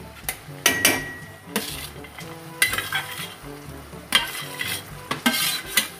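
Onion, tomato, carrots, peanuts and peas stir-frying in a pan for noodles, with loud repeated metal spatula scrapes and clinks over a steady sizzle, close up and free of speech.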